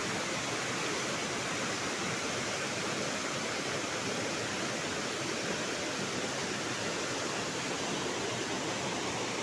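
Kawali Falls, a waterfall at a swimming spot, pours in a steady broadband roar of rushing water that holds constant and full throughout.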